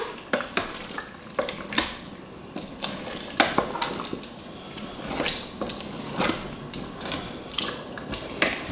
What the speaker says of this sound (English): Let's just stir that in a bit now.